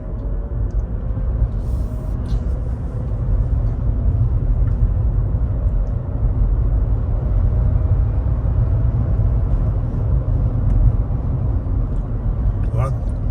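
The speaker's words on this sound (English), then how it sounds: "I think it's a little gear motor noise, but I think it's more. But I bet it's more tires than we think." Inside a Rivian R1T electric pickup with four motors, driving in all-wheel drive, a steady low tyre and road rumble holds throughout with a faint gear-motor hum mixed in.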